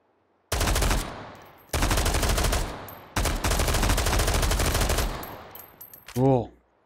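AR-18 rifle in the VR game Hot Dogs, Horseshoes & Hand Grenades firing loud, close automatic bursts, three long strings of rapid shots separated by short pauses, followed by a clattering mechanical sound at the end.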